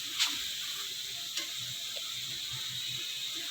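Chicken boti frying in ghee in a pan, a steady close sizzle with a couple of sharp spoon ticks against the metal.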